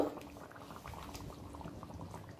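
Chicken do pyaza curry bubbling in a pan over a high gas flame, a soft, busy patter of small bursting bubbles, quiet and continuous.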